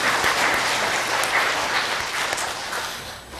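A church congregation applauds its choir after a hymn, a dense, steady wash of clapping from many hands that fills the room for several seconds before tapering slightly.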